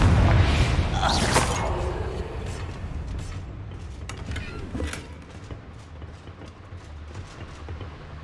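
A Confringo spell blast in Hogwarts Legacy opens with a loud, deep boom that fades over a couple of seconds into a rumbling, crackling tail with faint distant thuds.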